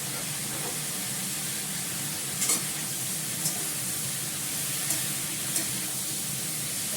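Fried brinjal (eggplant) is stirred in a hot pan, giving a steady close sizzle with a few brief scraping clicks of the spatula, no talking.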